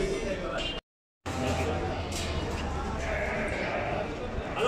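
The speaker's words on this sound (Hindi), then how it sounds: "बकरा भी देख रहे हैं।" Goats bleating amid the crowd at a livestock market on Eid ul Adha, several animals calling over a continuous bustle of people talking nearby, the din cutting out briefly before resuming.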